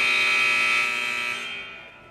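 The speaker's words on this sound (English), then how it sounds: "It was loud on the buzzer, folks." A loud electronic buzzer sounds at a high school wrestling match, holding one steady harsh tone that fades toward the end, with no voices over it.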